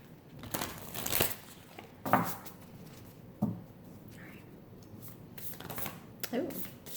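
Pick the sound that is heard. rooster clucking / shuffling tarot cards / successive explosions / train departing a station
shuffling tarot cards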